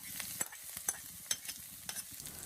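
Chopped onions with garlic and green chilli fry quietly in oil for chicken liver egg bhurji, while a spatula stirs them with a series of sharp scraping clicks over a faint sizzle.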